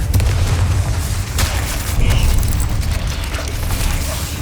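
A fiery explosion spell in the Hogwarts Legacy video game bursts with heavy, dense booms, continuous loud rumbling and crackling throughout.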